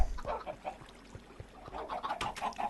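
Minecraft chickens cluck in the video game, a run of soft, brief clucks repeating at irregular intervals over a faint background, growing slightly busier toward the end.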